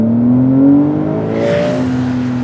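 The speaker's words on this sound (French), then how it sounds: "on va commencer par vous faire profiter du bruit du moteur. Donc ici, le Flat 6 3 litres biturbo." A Porsche 911 Carrera S's 3.0-litre twin-turbo flat-six revs up and holds a throaty hum, pitch rising then settling into a steady drone, loud and close.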